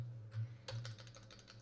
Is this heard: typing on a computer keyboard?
yes